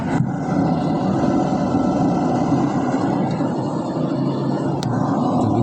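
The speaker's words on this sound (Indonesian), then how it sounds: "Suara kipas kedengaran kencang sekali." Loud, steady whooshing roar of the cooling fan inside a Polytron inverter jumbo refrigerator that has been modified to run on a manual timer, a constant broadband drone close by with a faint click near the end, no speech.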